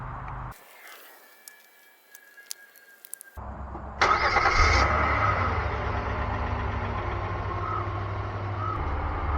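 A 2007–2012 Hyundai Santa Fe 3.5 V6 cranks and starts after a quiet pause with faint interior chimes, then settles into a steady, close idle and low drone as it rolls up onto blocks.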